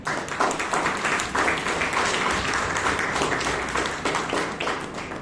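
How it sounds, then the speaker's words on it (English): Toastmasters members at a Bangalore club meeting give a round of applause for a speaker and evaluator, a full, fairly distant wash of many hands clapping at a steady level. "let us give a good round of applause for the speaker as well as the evaluator"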